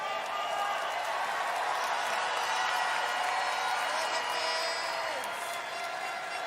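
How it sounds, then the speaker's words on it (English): A pageant audience applauds the delegates at the 72nd Miss Universe preliminary competition, a dense, steady wash of clapping and crowd noise that holds at an even level throughout. "can we give a big round of applause to all the delegates for being a force for good?"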